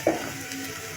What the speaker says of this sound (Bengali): এখন কতক্ষণ ভেজে নিব।